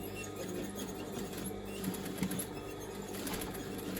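A sewing machine runs steadily on skirt material, the fabric guided along the inside of the presser foot, giving a continuous close hum with light rhythmic ticking throughout.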